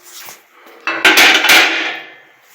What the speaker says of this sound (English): I'm going to put it into my hand crusher and I'm going to start hand crushing it all